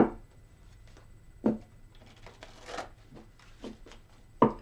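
Tarot cards being shuffled by hand, a few crisp riffling bursts and soft slaps separated by quiet pauses, close and fairly faint with no talking.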